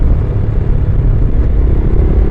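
Loud, steady low rumble of a Loncin GP165 motorcycle engine while riding, continuous with slight roughness and no other sounds standing out.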